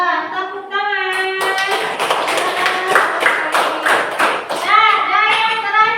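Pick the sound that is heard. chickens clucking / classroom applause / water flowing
classroom applause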